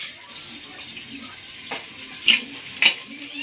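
Sliced onions fry in oil left over from frying fish heads in a kadai, a soft, continuous sizzle with a few brief louder crackles and stirring sounds near the end.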